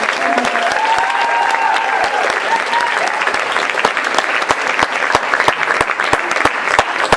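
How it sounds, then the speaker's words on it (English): An audience at a dual-language senior concert claps steadily and loudly, with a voice speaking faintly underneath the sustained applause. "round of applause for Joe."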